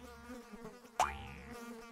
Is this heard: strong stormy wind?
no